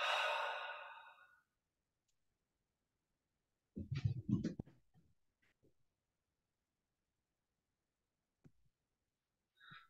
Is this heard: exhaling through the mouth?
yes